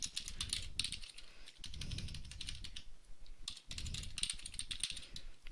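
Someone types steadily on a computer keyboard in a quiet classroom-style setting, with rapid clicking keystrokes in bursts and brief pauses in between.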